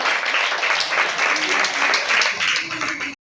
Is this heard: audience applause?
yes